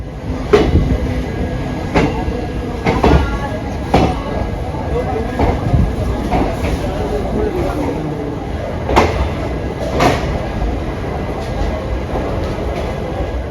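Darbhanga special passenger train running on the Raxaul–Gorakhpur route, heard from inside the coach as a steady rumble with repeated sharp rail-joint clacks and rattles at irregular intervals, with voices talking under it.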